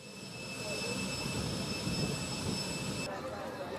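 A fixed-wing airplane on a repatriation flight at Niamey airport, heard as a steady, broad engine roar that holds at an even level throughout, with a high tonal whine running above it until near the end.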